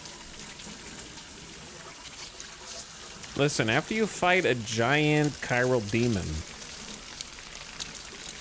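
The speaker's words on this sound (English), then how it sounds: "you gotta take a shower." A shower runs in the Death Stranding video game as a steady, faint water hiss throughout, with someone talking over the middle of it.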